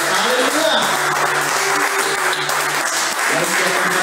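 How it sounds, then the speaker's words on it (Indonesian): A church congregation claps together in loud, sustained applause that fills the room, with a low sustained musical tone running beneath the clapping. "Berikan tepuk tangan dulu bagi kita."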